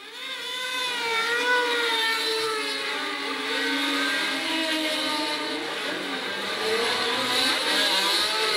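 1972 Formula 1 cars pull away at the start of a race, a sustained, loud engine whine with rising and falling pitch as several cars accelerate together, with no voices.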